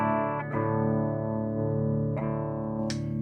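A clean electric guitar chord rings out through a Peavey 6505+ amp, sustained, with a few fresh strums near the start, middle and end.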